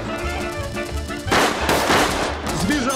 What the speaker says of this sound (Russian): Ну хватит палить, береги патроны!